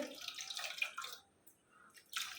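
Homemade lemon cleaning liquid pours into a bottle, a close, soft liquid splash and trickle that stops midway, then resumes briefly at the end.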